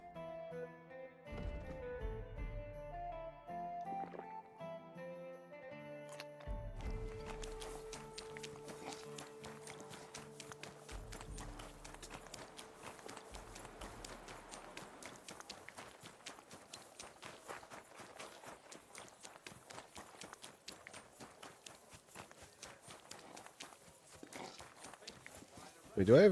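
Rhythmic hoofbeats of a galloping horse in the video game Kingdom Come: Deliverance II run steadily under music, with a brief tonal melody at the start and a sharp noise at the end.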